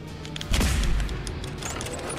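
A single sharp gunshot cracks out at a searchlight tower in the Fallout 4 video game, a loud close blast about half a second in with a brief rumbling tail over quiet ambience.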